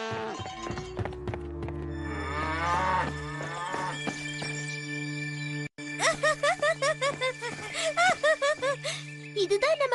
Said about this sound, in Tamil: என்ன இது, மாடுங்க இப்படி சத்தம் போடுதுங்க?